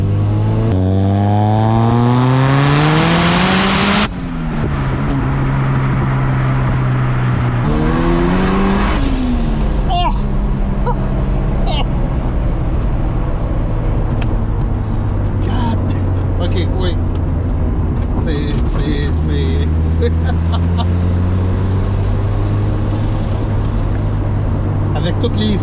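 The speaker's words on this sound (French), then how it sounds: "Ça, c'est un petit backfire. Un vrai." A 1992 Mazda RX7 Turbo, a JDM build, revs loudly and close with rising and falling engine tone and a sharp backfire pop, while people talk over the engine.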